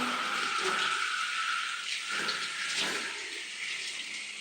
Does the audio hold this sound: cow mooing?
no